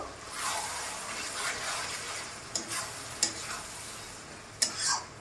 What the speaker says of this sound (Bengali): এবার এটাকে আমি ভালো করে মিশিয়ে নেব।